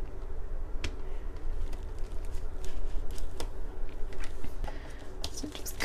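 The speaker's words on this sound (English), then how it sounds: "So I'm just going to cut it right here." Homemade fruit leather being cut, with soft intermittent snips and sticky crackles close to the mic over a constant background hiss.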